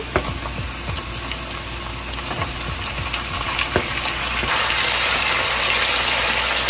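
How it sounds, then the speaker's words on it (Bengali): Farm chicken pieces hit a pan of browned onions and fry with a loud, continuous sizzle, dotted with sharp pops and crackles that grow a little busier toward the end, with no voices over it. "এখন এই যে আমার পেঁয়াজটা হয়ে গেছে আমি এখন চিকেনগুলো দিয়ে দিচ্ছি"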